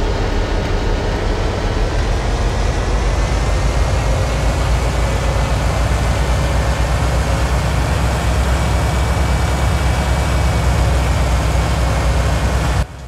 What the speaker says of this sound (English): I'm gonna be quiet so you guys can hear the engine sounds